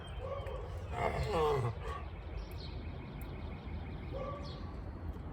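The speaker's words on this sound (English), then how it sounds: "Oh no, barking dogs." A dog barks a few times at a distance against a low outdoor hum, with faint bird chirps in the background.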